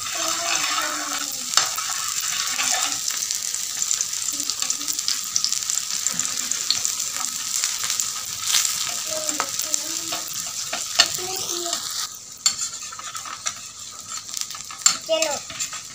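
Malpua batter fries in ghee in a pan with a continuous bright sizzle, broken by scraping and stirring and a few soft clinks of utensils, close by.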